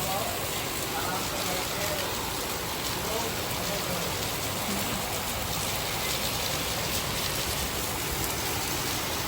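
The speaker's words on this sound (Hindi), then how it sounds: "जबरदस्त बारिश हो रही है, जबरदस्त।" Heavy rain pours down steadily, a dense, unbroken hiss of drops drumming on surfaces close by, loud and constant throughout with no voices.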